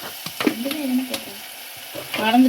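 Sambar powder and kuzhambu spice powder sautéed in a pan for a fenugreek kuzhambu, a few scraping stirs over a soft, close sizzle, with no talk.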